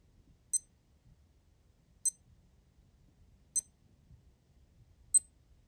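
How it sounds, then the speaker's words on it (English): Four short, high-pitched electronic beeps from a Casio G-Shock DW-5600E digital watch, evenly spaced about a second and a half apart, in a quiet room. "So that last beep basically is a kind of a signal, an audible signal to say, well, you're back at the time."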